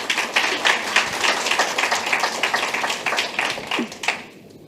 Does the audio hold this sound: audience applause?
yes